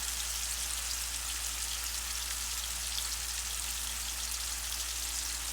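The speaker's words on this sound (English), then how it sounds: "there's nothing like bacon frying in the pan" Vegan bacon strips frying in a hot pan, giving a steady, dense sizzle and crackle that holds at an even level throughout, close by, with no voices.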